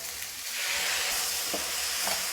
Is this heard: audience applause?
no